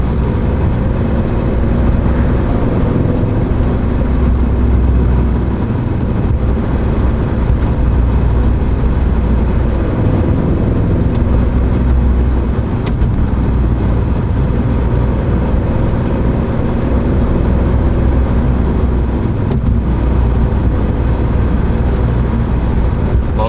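Audi B7 RS4 on OEM mufflers with aftermarket high-flow downpipes, exhaust rumbling loud and close from inside the car for the whole stretch as it accelerates and lifts off, a steady heavy engine drone with no talking.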